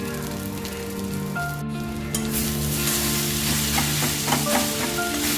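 Crumbled idli stirred into sizzling masala in a pan for egg kothu idli: loud continuous frying hiss with a spoon scraping and tossing the mixture, growing denser partway through, with no talk.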